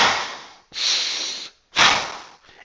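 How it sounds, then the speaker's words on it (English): Three deliberate breaths, each drawn in through the nose and pushed out through the mouth during exercise, come as close, loud airy bursts separated by short silences. "I'm going to be inhaling through my nose and exhaling out of my mouth."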